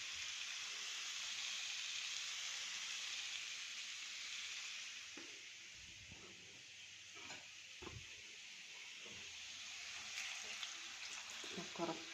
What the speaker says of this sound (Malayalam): കുറച്ച് വെള്ളം ഒഴിക്കുന്നുണ്ട് കേട്ടോ